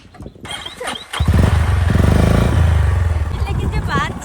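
Motorcycle engine on a village road, starting with clatter then settling into a loud, steady close idle rumble, with people talking over it.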